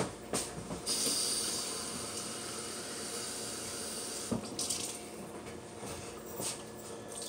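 Water is poured for cooking spaghetti, hissing and splashing in a few separate pours with short breaks between them, fairly quiet and close.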